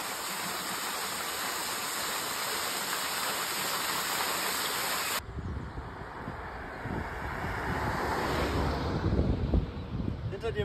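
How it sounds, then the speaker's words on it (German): A sulfur waterfall in the volcanic Azores splashes outdoors as a loud, steady rushing roar, then abruptly shifts to a rougher, closer wash with wind buffeting the microphone. "Schwefelwasserfall. Das ist Rarität."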